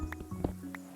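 A horse in the video game Minecraft gives brief snorts and clip-clop hoof sounds, a few quick soft bursts over a steady low musical hum, close but quiet.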